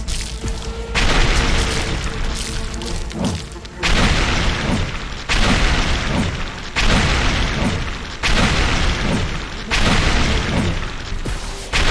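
An alien creature nest in The Riftbreaker is blown apart as a run of heavy booming bursts repeats every second or so, each a loud thudding blast over continuous rumbling combat noise.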